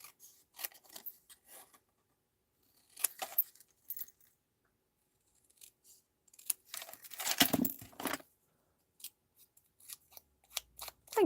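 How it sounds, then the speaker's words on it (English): Scissors snipping paper for a stamped card, several short crisp cuts in small clusters separated by silences, close and fairly quiet, with light paper rustles. "snippety snip it."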